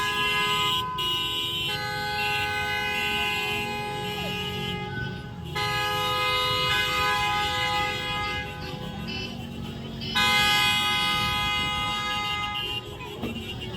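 Many cars sounding their horns at a support rally, long continuous blasts overlapping with shorter honks, loud and steady with brief breaks, and faint voices in the background.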